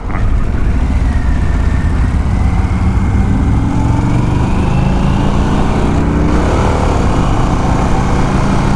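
A 2023 Harley-Davidson Pan America motorcycle engine drones steadily while riding, a loud continuous rumble with wind buffeting and a slight rise in pitch as the throttle rolls on, with no voices.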